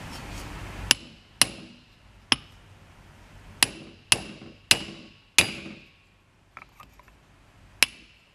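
A hammer gives a socket about eight sharp metallic taps at uneven spacing to seat it. Each strike rings briefly and decays in a quiet room, and a few softer clinks come near the end.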